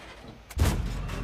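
A tank cannon firing in World of Tanks, a single loud booming shot that rumbles and sustains after a quieter lead-in, close and alone without talk.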